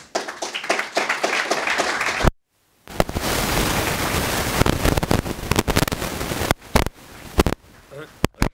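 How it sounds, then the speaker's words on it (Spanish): A dense burst of sustained clapping from a crowd, loud and close, after a stretch of brief handclaps, ending with a few scattered claps. "sí que pediría para él un fuerte aplauso"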